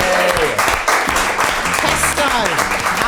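Studio audience applause for a guest on a food podcast, loud and continuous under overlapping talk and laughter from the hosts.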